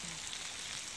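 Salmon fries on a firebox stove outdoors with a steady, soft crackling sizzle, faint and continuous throughout and free of talk.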